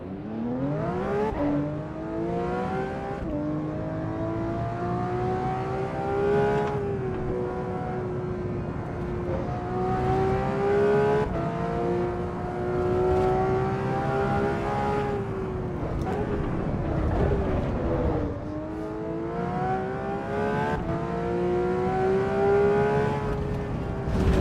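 A race car engine in the Assetto Corsa Evo racing simulator drones loudly and continuously, its pitch climbing and dropping sharply with each gear change over the full stretch.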